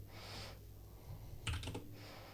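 Someone types a command on a computer keyboard while working on a Gateway GWNR71517 laptop, with quiet close key clicks in short bursts and a quick cluster of taps near the end.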